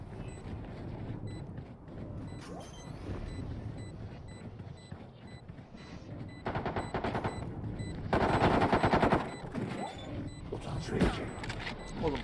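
Automatic gunfire in the Valorant video game, with dense bursts of rapid shots loudest in the middle and late stretches over a busy background, while a voice talks intermittently.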